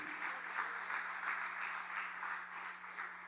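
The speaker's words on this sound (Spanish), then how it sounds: "Dele fuerte el aplauso a Cristo." A church congregation applauds in worship, a steady moderate wash of many hands clapping together with no voices over it.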